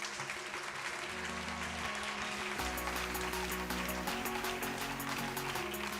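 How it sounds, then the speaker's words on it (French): Audience applause greets a facilitator at a women's leadership conference, a dense, steady wash of clapping sustained throughout with a low tonal hum beneath it. "Constance Binquet, que vous pouvez applaudir"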